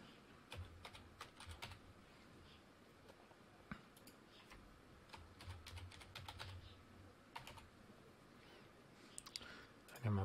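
A computer keyboard is typed on softly as a name and password are entered, with irregular light key clicks in short runs over a quiet background hum.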